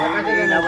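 A desi cockerel at a busy weekly village market lets out a brief, loud, close crow.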